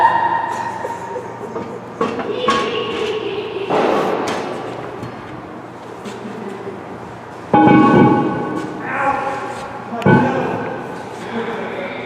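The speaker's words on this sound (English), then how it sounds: "So I'm just going to let him pull the drum off." A brake drum is pulled off a truck wheel in a repair shop, with heavy metallic clanks, grinding scrapes and sudden slams rising over a steady background hum and workshop noise.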